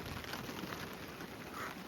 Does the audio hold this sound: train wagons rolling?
no